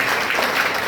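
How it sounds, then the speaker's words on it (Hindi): Audience at a health and wealth awareness program breaking into applause, a brief dense burst of clapping heard alone. "तो एक बार जोरदार तालियां करने के लिए"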